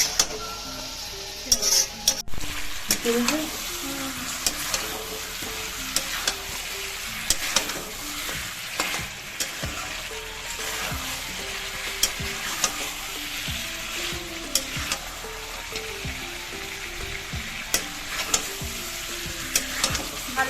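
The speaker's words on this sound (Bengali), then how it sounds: "একটু নুন দিয়ে ভালো করে কষাবো যাতে আলুটাও ভালো একদম সেদ্ধ হয়ে যায়" Chicken and potato pieces sauté in a pan for a home-style chicken curry, giving a steady sizzle broken by frequent scraping and clinking as a utensil stirs against the metal, with no talking.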